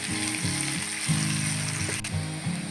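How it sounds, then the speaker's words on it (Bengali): Onion slices fry in oil with a constant hiss and crackle, joined by a recurring low mechanical buzz that starts and stops. "এবার পেঁয়াজটা ভালো করে ভেজে নেব।"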